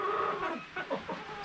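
A Blue Andalusian rooster clucks in a short series of soft, close calls, several quick bursts over a faint background hiss.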